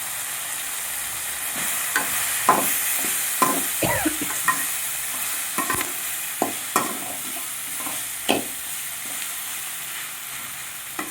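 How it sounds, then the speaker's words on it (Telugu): Tomatoes for chutney fry in oil in a pan with a steady close sizzle, broken by frequent scraping stirs of a spoon, and no voices. "ఇలా ఒక 10 minutes మనం అలాగే దీన్ని వేయించుకోవాలండి."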